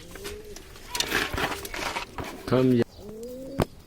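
A pigeon coos a few times up close, mixed with rustling and some brief background voices.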